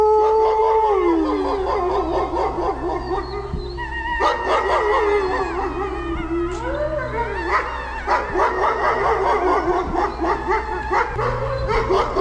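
A wolf howling in long, wavering, rising and falling tones, with several overlapping howls and yips, loud and close, continuous for about twelve seconds.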